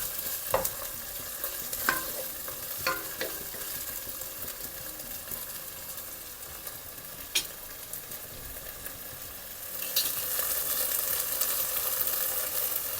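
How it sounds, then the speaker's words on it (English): Chopped tomatoes frying and being stirred in a pan for an Anglo-Indian meatball stew, a steady close sizzle with a few sharp spoon scrapes and knocks, growing a little louder near the end, with no talk. "now I'm going to add in our chopped tomatoes. And we are going to fry this"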